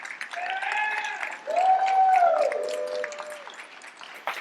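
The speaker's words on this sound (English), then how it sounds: "I just want you to give them a round of applause" Audience applause at a leadership institute demo day, with a whooping cheer and voice over sustained clapping that swells and then fades toward the end.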